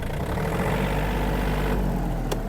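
A Yanmar RS-27 mini tractor's diesel engine runs steadily at idle, loud and near. Its low mechanical drone holds constant, with no talk, and a short click sounds near the end.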